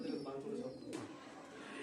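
Kalasabuj Giribaz pigeons, a breeding pair sitting on eggs in a loft, give soft low cooing close by, mixed with a voice talking over it.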